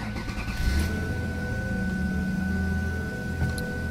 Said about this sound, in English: obviously I did the job correctly because the car fired up